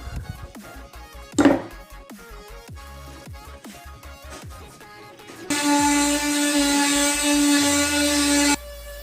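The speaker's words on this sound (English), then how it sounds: "So now I'm sanding this post." A palm sander works on an old fence post, its sustained buzzing drone running loud and close for about three seconds, after a run of sharp knocks and taps.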